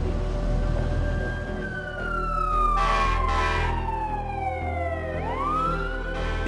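Wailing emergency siren, likely an ambulance responding to a downed skydiver at Vance Brand Airport, sweeping loudly up and down in pitch over a low vehicle rumble, no talk.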